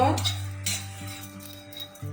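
Cumin and fennel seeds dry-roasting in a pan while being stirred, short clinks and scrapes of a utensil against metal over a low steady hum, close by.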